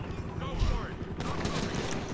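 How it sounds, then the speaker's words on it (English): Gunfire erupts in Grand Theft Auto V as bursts of rapid shots crackle over a low rumble, with a sharper volley partway through and a voice speaking over it. "they're shooting at me"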